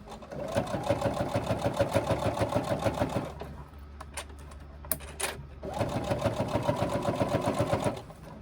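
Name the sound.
sewing machine stitching the crossbody bag hem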